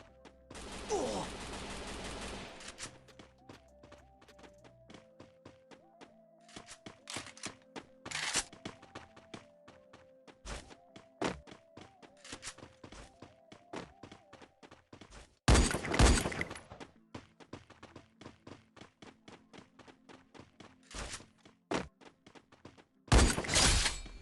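Gunfire in the battle royale game Free Fire comes as bursts of sharp, loud shots and rapid volleys, with crashing impacts and game sound effects between them and a few pauses.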